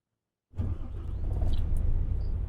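A vehicle engine in a video game starts abruptly after half a second of silence, then settles into a loud, steady, rumbling idle.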